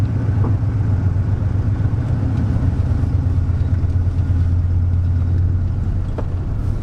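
A 1989 Ford F-150 project truck, engine running steadily at a low, even drone close by, with no clear rise in revs and no one talking.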